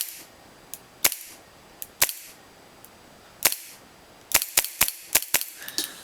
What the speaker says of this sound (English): so this gun can go through an entire magazine on green gas, not with the compressor.